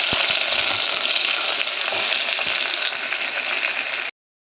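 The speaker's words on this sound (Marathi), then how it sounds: "दोन तमालपत्र कांदा घालणार आहोत कांदा परतून घ्यायचा" Onion and bay leaves fry in a pan with a loud, steady sizzle that runs continuously for about four seconds, close up and with no voices, before cutting to silence.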